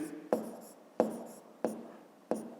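Pen or chalk strokes writing out a fifth-grade math solution, four short scratchy taps at an even, unhurried pace, close and fairly quiet.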